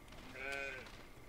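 A single sheep bleat in the farming video game Force of Nature 2, one short, faint, quavering call under low background noise.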